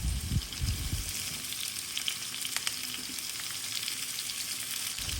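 Onions and tomatoes frying in hot oil in a pan, a steady close sizzle with bursts of crackling and some stirring scrapes near the start, no talking.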